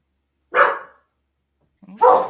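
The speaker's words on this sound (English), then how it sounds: "Oh, that's my dog." Two separate dog barks, loud and close, with a pause between them and no other sound around them; a house dog reacts to someone at the front door collecting a package.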